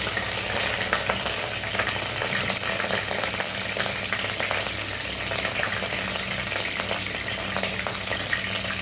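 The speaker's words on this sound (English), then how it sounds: "In a pan, add oil. Once your oil is hot, add fresh curry leaves." Fresh curry leaves frying in hot oil in a pan, a steady dense sizzle and crackle that runs unbroken at close range with no talk over it.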